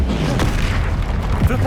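Confringo fire spell explosion in the Hogwarts Legacy video game, a loud booming blast with rumbling low end and a sharp sweep, dense and close over busy game sound.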